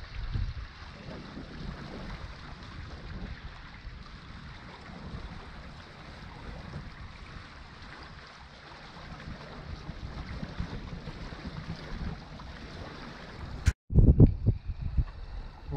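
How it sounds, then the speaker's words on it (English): Steady wind and water rush past a sailboat on a broad reach in light wind on the Haringvliet, a soft continuous wash ending in a few loud bumps. "We're sailing on a broad reach, sometimes even a little bit downwind."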